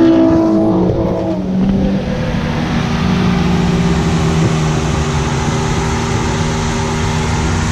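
A Chevrolet Corsa fitted with an Astra 2.0 engine revs hard and then holds a steady, loud, close engine drone.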